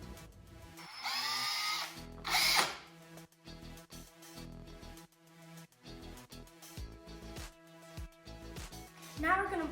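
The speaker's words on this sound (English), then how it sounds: "We're going to do a pilot hole through the wooden circle." A power drill bores screw pilot holes through a wooden circle, short bursts of whirring with pauses between them, close up, while a person talks over and between the drilling.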